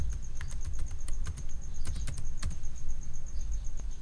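Close, crisp computer keyboard typing while Python code is written, irregular bursts of key clicks with short pauses between them, over a faint steady hum and no speech.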